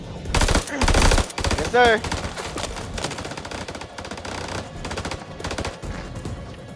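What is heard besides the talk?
gunfire in the video game House of Ashes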